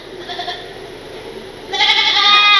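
Goats bleating at a panchayat goat distribution event for Scheduled Caste families in Varappetty, one faint bleat early on, then a loud, close, sustained bleat near the end over a steady hum of outdoor background noise.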